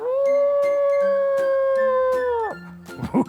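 A wolf howl serves as a sound effect in an Indonesian children's fable: one long, loud, sustained howl that holds steady and then drops off sharply, followed by a few brief yelping sounds.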